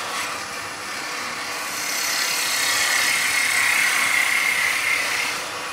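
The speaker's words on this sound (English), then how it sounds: "so here we go, skew chisel." A skew chisel cuts wood spinning on a lathe, shaping lines down toward a small copper ferrule. It makes a steady, close hiss with a slight swell in the middle, with no talk.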